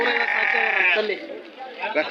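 Young lambs bleating close by at a morning livestock market in Tumakuru, one long wavering bleat followed by shorter calls, with people talking over the animals.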